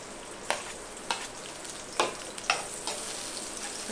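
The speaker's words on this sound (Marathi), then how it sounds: "कांदा हा छानपैकी फ्राय करून घ्यायचा आपल्याला" Onion frying in hot oil in a pan, a soft continuous sizzle with several sharp crackles and spatters spaced about half a second apart, no voices.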